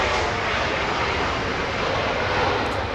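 A SkyWest Embraer E175 jet arriving at Los Angeles International Airport roars loudly and continuously, a broad steady engine rush that fills the whole clip.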